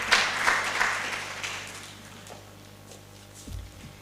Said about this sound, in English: Please, another round of applause for the panelists.